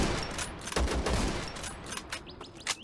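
Distant pixel-art shooter gunfire from Zero Sievert as enemy groups trade shots, scattered bursts and single cracks over a low background hum.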